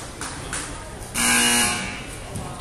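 A long electronic buzzer blares once at a youth basketball game in a gym, loud and steady for about a second, with shorter faint buzzes and crowd murmur around it.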